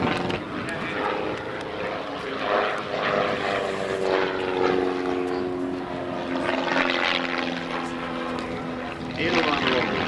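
A propeller-driven aerobatic plane rolls through an aileron roll overhead, its engine drone steady and moderately loud with a slight shifting pitch, while someone talks over it throughout.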